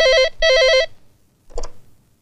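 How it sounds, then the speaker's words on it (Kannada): A telephone rings with two electronic warbling bursts in quick succession, loud and close, followed by a brief softer sound; no talking. "ಡೆಲ್ಲಿಯಿಂದ ಫೋನ್ ಮಾಡಿದ್ದಾರೆ"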